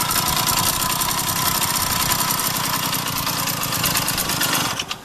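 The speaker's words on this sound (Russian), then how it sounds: "Движок работает." ZiF-77 motor scooter engine idling after a rebuild, a steady close, loud mechanical putter with a continuous rhythmic beat that dips briefly near the end, no voices.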